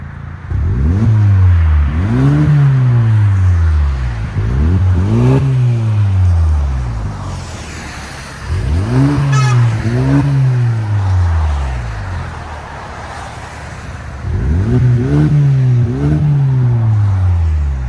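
A 2023 Hyundai Santa Cruz with a 2.0L turbo, exhaust cutouts and a resonator delete, revved repeatedly from outside. Loud, raspy engine pulls rise and fall in pitch in several bursts, close by.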